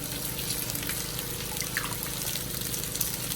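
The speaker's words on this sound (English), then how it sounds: "You can use a cheesecloth, squeeze it out in there and get all of that milk out." Coconut milk squeezed by hand through a cheesecloth in a backyard kitchen, giving a steady close trickle and dribble of liquid that runs continuously without pause.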